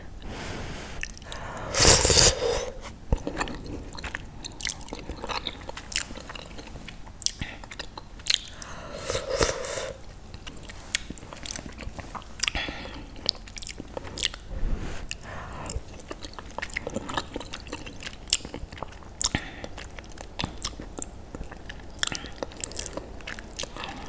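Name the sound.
eating Goya Salvadorean beans with brown rice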